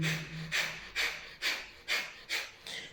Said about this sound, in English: So breathe through the belly, and you can do some piston breathing.